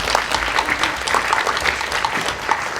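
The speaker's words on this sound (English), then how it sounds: "Applause for all of you guys." An audience at Startup Weekend Varna applauds the competing teams, with sustained, even clapping from a crowd and a few louder individual claps standing out.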